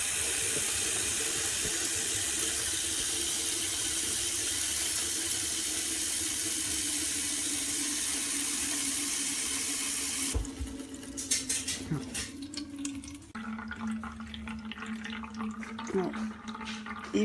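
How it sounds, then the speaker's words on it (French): Tap water streams steadily into a Brita water filter jug, a continuous close hiss that shifts to a lighter, changing trickle as the jug fills. "je vais venir remplir le pot à eau intégralement"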